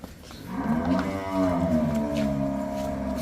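A single long, low moo from a buffalo close by, drawn out and steady for a few seconds.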